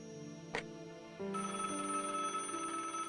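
A telephone ringing in the video game Broken Sword: Shadow of the Templars, an electronic ring tone that starts partway through and continues steadily at moderate level, with a brief click earlier.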